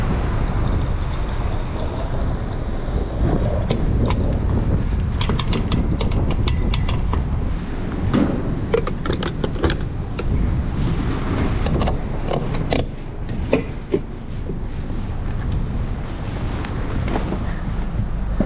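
A 2011 Mazda Miata driving on the road, a steady loud rumble of engine and road noise with wind buffeting and occasional bumps and clicks, no talking.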